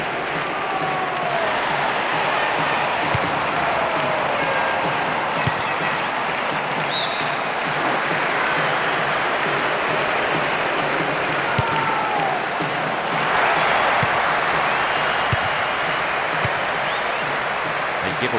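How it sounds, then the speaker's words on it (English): A stadium crowd in the football video game PES 2008 roars and chants in a dense, continuous wall of sound that holds steady throughout with no commentary. "The rhythmic chanting of the crowd."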